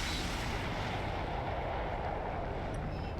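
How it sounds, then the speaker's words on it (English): Explosion in an animated TV show: a continuous, dense, rumbling blast roar that fills the whole moment at moderate loudness, with no voices over it. "They're about to blow this thing up."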